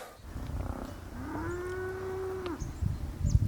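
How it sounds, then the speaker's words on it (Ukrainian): A cow moos once in a long, steady low call lasting over a second, close by outdoors at a remote farmstead in the Zakarpattia highlands, with rustling and background noise around it. "Мудра коровка сторожує оселю."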